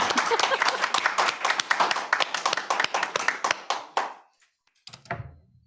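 A church synod assembly claps steadily for about four seconds, then the applause stops abruptly, followed by a brief thump and a faint low rumble.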